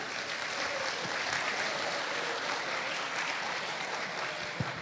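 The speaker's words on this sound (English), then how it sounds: "Please again give a round of applause to our amazing speaker." An audience applauds at the end of a conference keynote session, a steady wash of many hands clapping together, moderately distant and unbroken, with no voices over it.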